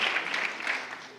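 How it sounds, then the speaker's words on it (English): A convocation audience claps for its panelists, a dense burst of many hands fading slightly over about a second. "Let's give a round of applause again just for the panelists in this convocation"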